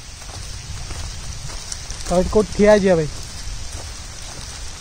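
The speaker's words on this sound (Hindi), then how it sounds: "तो वर्षा भी है" Steady rain patters across a farm and garden with a constant hiss, while someone talks briefly in the middle.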